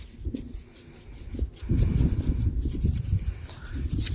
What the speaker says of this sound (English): I just usually brush them.